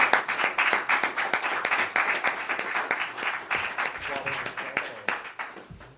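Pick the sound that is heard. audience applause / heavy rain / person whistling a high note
audience applause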